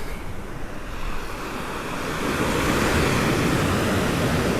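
Waves wash onto the beach at Lo De Marcos, Mexico, in a broad, hissing surf roar that builds and grows louder over a few seconds, with some wind noise mixed in.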